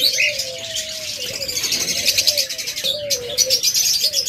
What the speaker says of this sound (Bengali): প্রত্যেকটা পাখি দেখুন স্বাস্থ্য অনেক ভালো, হেলদি পাখি এবং সুস্থ সবল পাখি